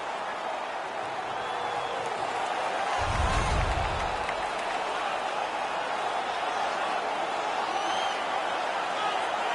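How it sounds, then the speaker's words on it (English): Arena crowd at a Hartford Whalers versus Toronto Maple Leafs hockey game roaring after a fight, a steady broad wash of cheering and noise with a brief low thump swell in the middle. "The crowd is so pumped right now."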